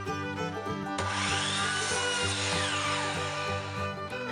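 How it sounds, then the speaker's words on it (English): A chop saw angled at 25 degrees cuts a wooden triangle for a fall craft, its motor humming steadily, then a louder rough rasping as the blade bites through the wood, close and continuous. "I turned my chop saw to a 25-degree angle and cut out the triangle shape that way"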